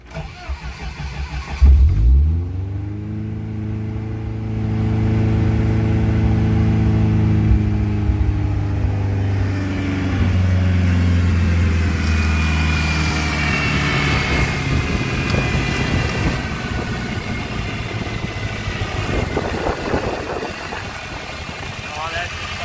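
A Jeep Comanche engine cranks briefly and catches, then settles into a steady, loud idle close by that runs on with slight fluctuations.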